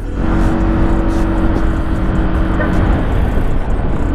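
A new FKM Slick 150 motorcycle engine runs steadily and fairly loud, with a continuous low hum that holds throughout the short stretch, with no speech over it.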